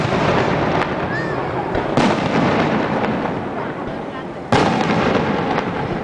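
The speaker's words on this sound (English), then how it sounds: "but there are fireworks." Fireworks go off at night in San Giovanni Rotondo as a dense, continuous crackle of rapid pops with sharp louder bangs standing out, filling the air loudly.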